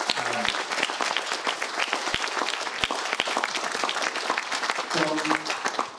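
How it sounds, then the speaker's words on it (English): An indoor audience at a church venue applauds warmly and steadily, dense clapping filling the room, with a few voices and cheers breaking through near the start and again toward the end. "give a big round of applause for Don"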